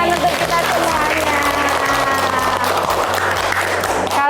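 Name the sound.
audience applause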